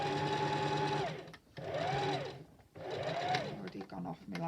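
A sewing machine stitches fabric for a stuffed doll in three steady runs, each rising and slowing as the speed changes, close and loud with no voices.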